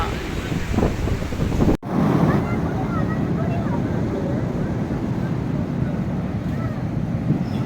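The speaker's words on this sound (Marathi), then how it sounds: "हा पहा समुद्र किनारा" Waves roll onto a Goa beach in a steady surf roar mixed with wind buffeting the microphone, loud and continuous, with a brief dropout near the start.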